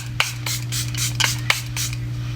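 Makeup setting spray misted from a pump bottle, several short hissing bursts in quick succession, close and fairly loud over a steady low background hum.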